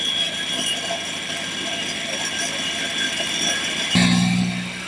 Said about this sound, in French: Nous allons commencer directement en vitesse 2, c'est assez exigeant